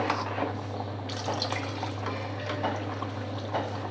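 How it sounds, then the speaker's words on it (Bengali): Water is poured into a pot of spiced haleem, a soft, steady splashing trickle over a low background hum. "এখন আমি দিয়ে দিব পরিমাণ মতন পানি।"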